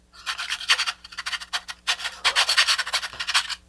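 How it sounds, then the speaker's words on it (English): A metal file rasps against the inside of a model rocket body tube in quick, uneven bursts of close scraping, with brief pauses between strokes and no speech over it. "I'm going to take a file and just sand the inside"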